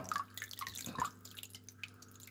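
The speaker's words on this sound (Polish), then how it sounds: "Filtr nie daje rady przepompować wody. Po prostu się zapowietrzył." Water from an Aquael UltraMax aquarium filter outlet sputters with trapped air, giving a series of quiet, irregular drips and splashes over a faint steady hum.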